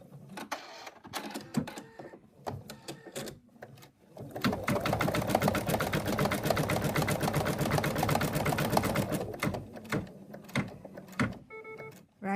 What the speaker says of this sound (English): Place the arm in position and stitch out.